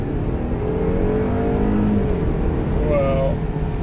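Engine of a 2019 Land Rover Discovery Sport rated at 230 horsepower, heard from inside the cabin as a steady drone with a couple of rising revs.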